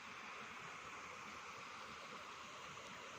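Water in a clear forest stream on rural fruit-orchard land in Saraburi, Thailand, flowing in a steady, even wash that stays soft and continuous with no voices.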